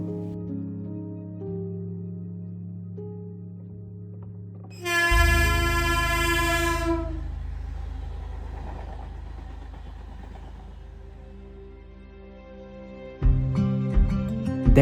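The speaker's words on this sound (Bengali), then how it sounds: "এ ভাই, ট্রেন আসছে," A passenger train pulls into a railway station platform, first a low idling engine drone, then a loud, sustained horn blast followed by a long rumbling roll of wagons that fades before heavy engine noise returns near the end.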